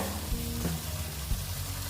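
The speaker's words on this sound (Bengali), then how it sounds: "প্রায় ভাজা হয়ে গেছে বেশি ভাজবো না" Vegetables sizzle and fry steadily in hot oil in a pan while ash gourd is being cooked, a continuous crackling hiss with a few soft stirring knocks, close and alone.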